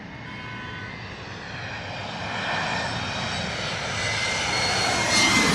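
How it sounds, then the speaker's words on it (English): A Delta Airlines Embraer E170 jet from Boston on its landing approach in Queens, New York City, its engine roar building steadily and growing louder as it nears, with no talking. "Delta Airlines from Boston, Embraer E170 coming on in."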